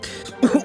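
A storyteller voicing a character gives a brief, rough cough with a throaty, clearing quality, a short pair of bursts close to the microphone; a voice imitates the sound.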